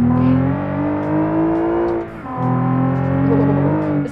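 A car in the driving game BeamNG hums with a steady tonal engine note that dips briefly mid-way as it slows, then rises again into a sustained drone, loud and close with no talking.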